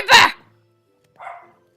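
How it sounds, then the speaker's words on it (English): A dog in the Minecraft video game gives a short, loud bark, then after a pause a second, fainter bark. "excuse my dog making sounds"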